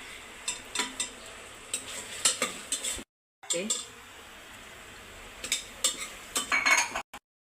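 Ginger garlic paste stirred into fried onion and tomato in a cooker for matar pulao, heard as close rhythmic spatula scrapes and clinks against the pot over a soft sizzle, with a brief silent break.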